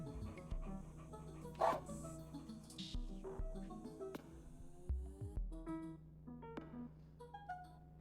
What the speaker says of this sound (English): Dog noises are just faint enough that I keep thinking it's some dog outside of my room.